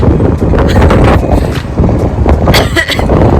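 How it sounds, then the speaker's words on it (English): Strong wind buffets the microphone on an Oregon beach, a loud, constant low roar with gusty surges throughout. "It's quite windy"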